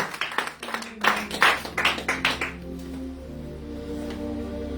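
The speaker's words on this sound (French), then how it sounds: "Vous applaudissez le Seigneur pour vous." Rhythmic congregational clapping in a church, a run of firm, evenly spaced claps that stops after a couple of seconds and leaves sustained tones ringing on in the room.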